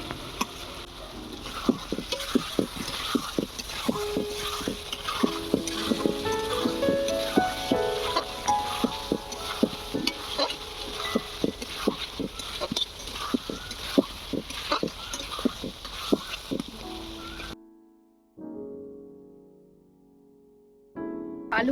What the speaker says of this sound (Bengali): এবারে আলুটা আগে কষিয়ে নেব।